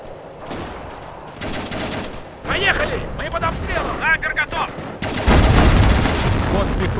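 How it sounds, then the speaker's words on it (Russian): Bursts of gunfire and explosions from a Stalingrad mod of the World War II strategy game Company of Heroes, with unit voices over them; shooting swells into a loud, dense barrage near the end. "Поехали, мы под обстрелом."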